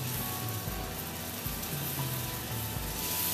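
Steady sizzling of pancake batter frying in a hot pan, a close, continuous crackle with soft clinks of utensils.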